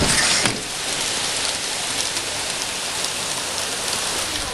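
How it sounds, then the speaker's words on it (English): Heavy rain pours down in a dense, steady hiss, loud and close throughout, with a brief louder burst at the start. "Freaking rainy!"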